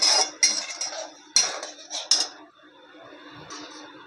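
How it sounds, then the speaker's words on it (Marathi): A spoon or spatula scrapes and clinks against a kadhai while something roasts in ghee, several sharp metallic strokes over about two seconds, followed by quieter faint sizzling. "हे बघा असं तुपामध्ये आपण भाजून घेणार आहे"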